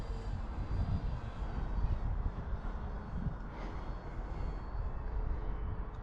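A Prime Tundra RC bushplane on floats drones steadily overhead, its small electric motor making a continuous buzz mixed with wind rush, at moderate distance and with no voices.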